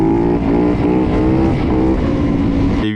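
A 450 motocross motorcycle engine revs hard and steadily up close, a loud, continuous buzzing drone that rises and falls slightly in pitch before cutting off abruptly at the end.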